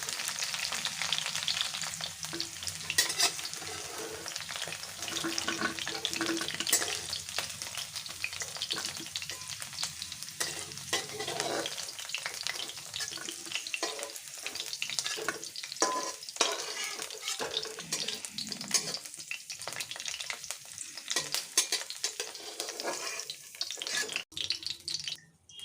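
Moringa fries in oil with a soft, steady sizzle and frequent scraping stirs close by, fairly quiet overall, fading near the end with no voices.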